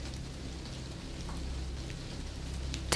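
Steady rain patters against window panes in a cozy room, a dense even hiss holding at a constant level throughout with no voices.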